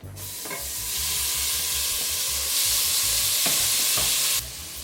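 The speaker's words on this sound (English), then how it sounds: "now you're gonna prepare for the sizzle" Steady, loud sizzling of food frying in a hot pan, with occasional stirring scrapes and louder crackling bursts throughout.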